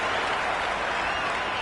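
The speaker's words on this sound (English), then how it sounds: "Will you listen to that crowd? They are loving this." A stadium crowd in the Cricket 26 video game cheers and applauds, producing a dense, steady roar of clapping and voices that holds at one level throughout.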